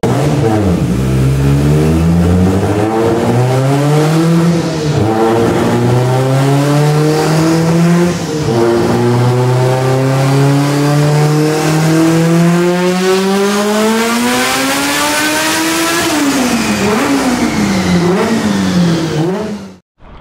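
A Subaru STI hatchback with a 6466 turbo revs hard on a dyno at 45 psi boost, the engine climbing through long sustained pulls, very loud and close, dropping off abruptly at the end.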